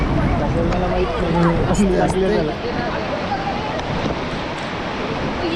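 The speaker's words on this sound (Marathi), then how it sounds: "काय खतरनाक रिवर आहे आणि फ्लो पण चांगला आहे पाण्याला" Fast-flowing river water rushes in Melghat, a loud, unbroken broadband roar close by, with a voice talking over it during the first few seconds.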